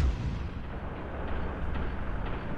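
A rocket explosion in the video game Ravenfield rumbles as a deep, sustained blast, heavy and loud in the low end, rolling on for a couple of seconds with no talking.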